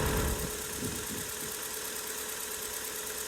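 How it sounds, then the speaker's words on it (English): A 2000 MGF engine runs steadily with its revs raised slightly while warming up, producing a faint, even mechanical hum with a brief louder moment at the start. "started by starting the car up, brought the revs up a little bit just to increase the flow of gases and pressure through the system"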